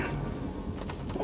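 Pigeon-like cooing from birds in the video game Little Nightmares 2, a low murmuring coo over a steady background bed, close and moderately loud with no talk.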